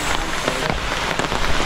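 Rain falling in the Ranipuram hills forest, a steady dense patter on surfaces with occasional louder drops, close and continuous without any talking.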